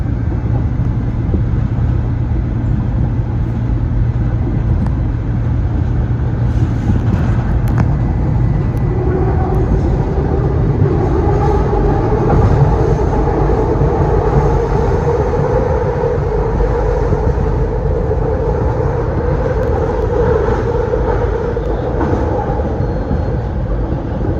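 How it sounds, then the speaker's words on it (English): Market-Frankford line subway trains roll into a Philadelphia station in a steady, loud rumble, with a rising metallic wheel whine building midway as cars approach. "Looks like we got a backup of trains coming in."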